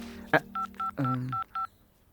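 A phone keypad sounds five short, evenly spaced dialing beeps while a number is called, fairly quiet, with a brief voice and a click in between.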